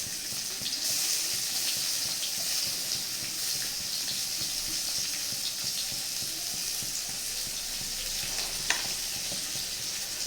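Chopped raw onion fries in a pan with an even, hissing sizzle that runs unbroken for about ten seconds and sits close, with a faint clink near the end and no talking.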